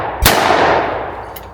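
A single sharp, loud blast from an over/under shotgun fired at a clay target, followed by a long fading rumble and a faint clank near the end, with no voices.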